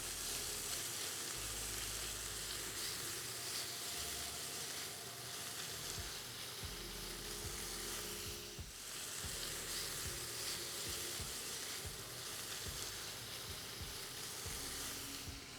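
Beef rouladen sizzle loudly in a hot pan after searing, a steady close frying hiss with faint stirring clatter throughout.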